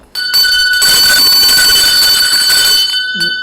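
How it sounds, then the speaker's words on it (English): A bell rings loudly and steadily for about three seconds with a bright sustained metallic tone, cutting off near the end, during a game-show style segment. "Ring the bell."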